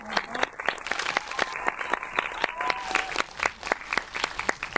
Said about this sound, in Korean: 오늘 자리해주신 세 분 감독님께 박수 한번 부탁드리겠습니다